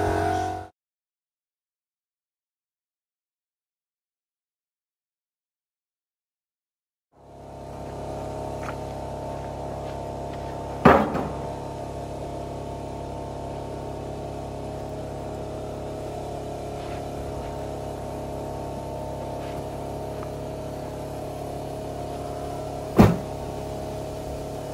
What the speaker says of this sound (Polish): słychać, jak agregat zwolnił